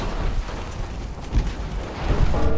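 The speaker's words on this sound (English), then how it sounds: "Give her a bit more lead on the bow tube. Torpedo away." A torpedo is launched from a warship in the naval game Ultimate Admiral: Dreadnoughts, giving a short, dense, rumbling whoosh with a brief swell in the middle and no talk over it.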